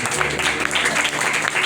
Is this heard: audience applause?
yes